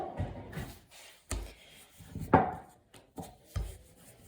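Flour tortilla dough worked with a wooden rolling pin on a floured surface, giving several separate soft thuds and rubbing strokes in an irregular rhythm, close and moderately loud.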